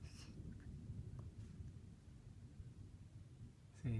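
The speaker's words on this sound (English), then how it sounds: "Thunder." Thunder during a storm, a faint, distant low rumble rolling on steadily for several seconds, with a short louder burst of sound at the very end.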